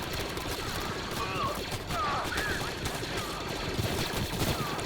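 Blaster gunfire exchanged between two lines of clone troopers in a Star Wars: Galaxy at War mod base defense battle in a video game, rapid overlapping shots and bursts crackling continuously, with a voice talking over it.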